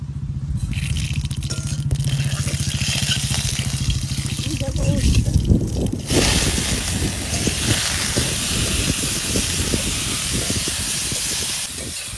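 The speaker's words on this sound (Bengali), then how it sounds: "তেল গরম হয়ে গেছে, দেব সরষা" Mustard seeds hit hot oil in a pan while bitter gourd and potato are being cooked, setting off a loud, sustained sizzle and spatter that runs on for several seconds after someone speaks.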